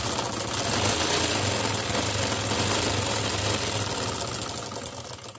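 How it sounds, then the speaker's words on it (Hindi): A sewing machine runs steadily, stitching elastic into the waistband of trousers while the fabric is stretched; a continuous, close mechanical whirr with a rapid rhythmic chatter, moderately loud and alone throughout. "ये ऐसे आगे पीछे से इसको खींच के सिलाई करें पूरे सेंटर में"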